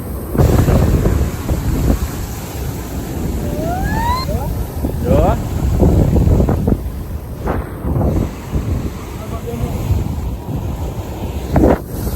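Heavy sea surf roars and surges in repeated waves into a seashore cave, buffeted by strong wind noise, with a voice speaking over the rushing water.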